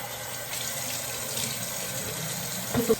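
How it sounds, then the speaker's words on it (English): Running water at a bathroom sink while a face is being wetted, a steady close splashing hiss with a couple of louder splashes near the end. "every day I get up, I wet my face like this"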